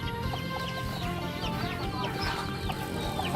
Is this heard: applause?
no